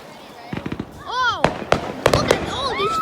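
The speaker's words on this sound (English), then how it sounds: "Look at all these fireworks." Fourth of July fireworks exploding over a waterfront with party boats, several sharp bangs and crackling bursts in quick succession, some whistling rises between them, loud and fairly close, with people exclaiming over the display.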